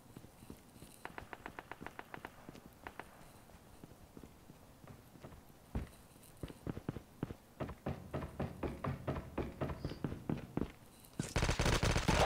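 Gunfire rings out in the battle royale mode of the mobile video game Call of Duty Mobile, with rapid bursts of automatic shots and single cracks, faint at first and then louder, ending in a loud sustained burst.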